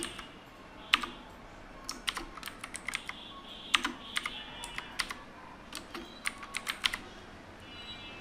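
Keys clack on a computer keyboard in irregular quiet bursts and single taps, close and fairly soft, over a low steady background hum.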